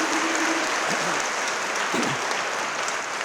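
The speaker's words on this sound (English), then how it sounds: "let's give them a great round of applause for their great leadership." An audience applauds speakers in a hall at Attica, a broad, steady wash of clapping held at one level throughout, with a brief voice or two surfacing under it.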